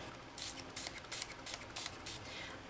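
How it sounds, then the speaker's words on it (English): Nutra Curls anti-frizz hair spray fired in a quick series of about seven short, sharp hissing bursts, quiet and close, with no speech. "That is one aggressive sprayer."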